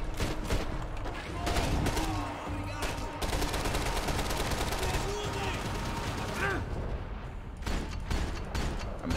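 Rapid bursts of automatic gunfire and scattered shots fill a Max Payne 3 firefight against a helmeted enemy, loud and near, continuing almost without a break, with a voice speaking over parts of it.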